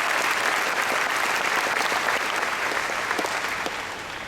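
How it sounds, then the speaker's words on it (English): A full crowd applauds steadily at a high school commencement ceremony, a dense wash of clapping that holds strong before tapering slightly at the end. "Please join me in a round of applause."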